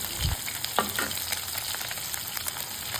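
Crispy fish frying in a pan of oil, a steady broadband sizzle running throughout with a few brief clicks and spatters, moderately close and with no talk.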